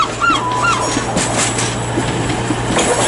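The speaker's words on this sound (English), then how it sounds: "arriving in now is a Voyager" Voyager train pulling into Bristol Temple Meads station, a steady low rumble with a brief high squeal near the start, heard from the platform among background station noise.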